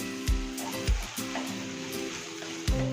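Okra frying with spice powder in a pan gives a steady moderate sizzle, broken by a few dull thumps and scrapes as the vegetables are stirred and turned.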